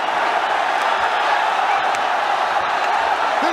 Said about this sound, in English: This crowd is crazy.